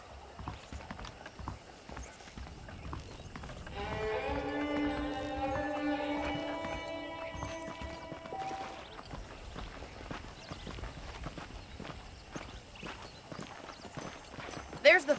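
Horse hooves clip-clopping steadily in the video game Red Dead Redemption, a rhythmic, moderately close patter running the whole clip, with a whinny or musical swell in the middle and someone talking over it.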